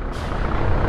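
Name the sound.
large truck passing on street at night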